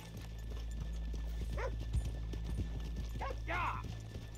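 In the video game Red Dead Redemption 2, hooves clop at an irregular walking pace, with a couple of short whinnies and snorts under faint background voices.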